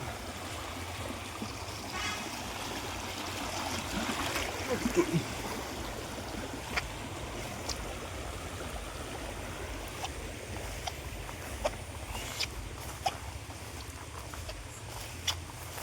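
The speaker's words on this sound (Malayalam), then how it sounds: "അത്യാവശ്യം വെള്ളമുണ്ട് ഒഴുക്കൊക്കെ ഉണ്ട് ചെറിയൊരു തോടാ കേട്ടോ" A small forest stream with a fair flow of water makes a steady, fairly quiet gurgle and babble throughout, with a few light clicks and splashes scattered over it.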